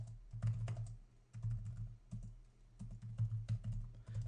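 Access lists being entered for a network router on a computer keyboard: quick, close bursts of keystrokes in uneven runs with brief pauses between them, and no voices.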